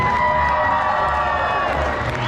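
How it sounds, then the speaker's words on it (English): A sideshow audience at an oddities and curiosities expo cheers and claps for a performer, a steady wash of crowd whoops and applause, fairly loud and continuous with no clear individual voices. "One more time, big round of applause for Miss Trashy"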